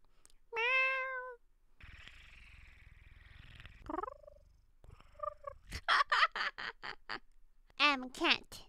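Someone mimics a cat: a clear meow early on, then rumbling noise and a string of short, choppy vocal squeaks and a final meow-like cry.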